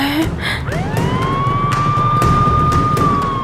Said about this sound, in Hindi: पहले एम्बुलेंस को रास्ता दो।